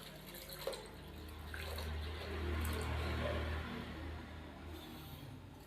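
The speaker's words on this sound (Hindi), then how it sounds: "1 किलो इसके अंदर पानी शामिल कर देंगे हम" Water is poured into a pot of mixed lentils for daal, a soft, steady faint rush of flowing liquid that swells in the middle and tapers off, with no speech over it.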